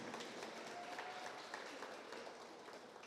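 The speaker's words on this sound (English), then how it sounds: "A round of applause again for Harlan." An audience at a graduation ceremony applauds a graduate, a soft, fairly distant wash of clapping with a few sharper claps, holding steady throughout.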